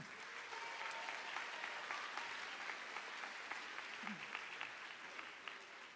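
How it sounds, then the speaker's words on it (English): At a middle school spring band concert, the audience gives the beginner band a sustained, even round of applause, a soft wash of many hands heard from a distance. "Another big round of applause for beginner band."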